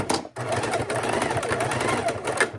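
A sewing machine back stitches a fabric sachet, a close, steady whirring run of needle strokes that stops briefly near the start and then keeps going.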